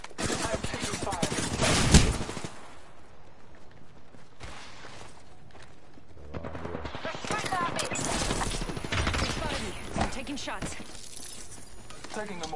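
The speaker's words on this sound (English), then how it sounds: "I'm taking fire." Bursts of gunfire in Apex Legends mixed with sharp impact and shattering sounds, loud in stretches and fading between them, with a voice speaking over parts of the action.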